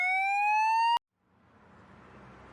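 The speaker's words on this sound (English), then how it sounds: "This is a police car." A police car siren gives a single rising electronic wail that cuts off abruptly, followed by faint hiss.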